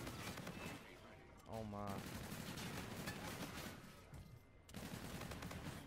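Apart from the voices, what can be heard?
overpowered gun firing in video game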